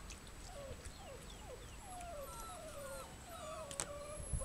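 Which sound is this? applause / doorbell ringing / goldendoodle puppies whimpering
goldendoodle puppies whimpering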